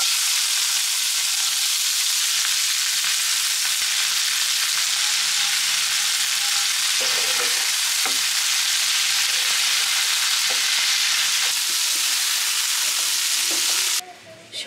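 Onion and green chili frying together in a hot pan in a home kitchen, giving a loud, continuous, dense sizzle with occasional stirring scrapes and no talking.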